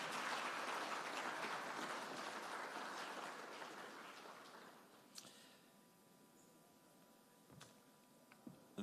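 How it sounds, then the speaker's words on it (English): Applause from a conference audience for a panel discussion, dense clapping at first that thins and fades away over several seconds, leaving a few scattered claps and faint room noise. "I think that panel discussion deserves another round of applause."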